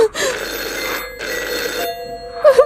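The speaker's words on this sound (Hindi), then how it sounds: "अगर फोन बजे तो उठाएगा मत" A telephone rings in repeated bursts with short pauses between them, fairly close and clear, with no one speaking.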